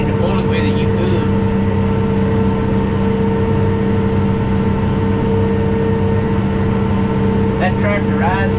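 A Kubota tractor engine drones steadily with a strong low hum and constant tonal whine throughout, close and loud, while cutting hay, with a voice briefly heard near the end.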